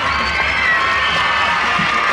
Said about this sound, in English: And a very good round of applause for Miss Heather Clifton